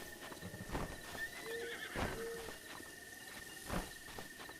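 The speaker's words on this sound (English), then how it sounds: "Maple now has some stamina stuff going to tame the giant horse" A giant horse in Breath of the Wild snorts and whinnies amid hoof clops and soft ambient chirping, faint and somewhat distant.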